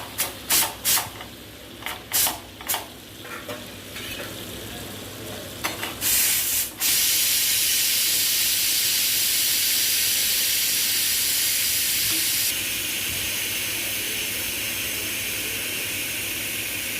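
Hot spice tempering poured into cooked dal, a few clinks and scrapes followed by a sudden loud, sustained hiss and sizzle that carries on steadily.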